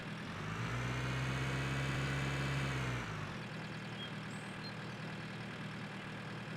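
A tractor engine idles with a steady low drone in a farming video game, loud for about three seconds before dropping to a softer, rougher rumble.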